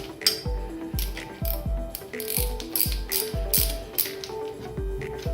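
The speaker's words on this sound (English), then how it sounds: "we're going to tighten these down with a 13mm wrench" Repeated clicking of a 13mm ratchet wrench tightening bolts during a 269 Motorsports v2 steam kit install, with about a dozen crisp, close ratchet strokes in a steady rhythm and no talk.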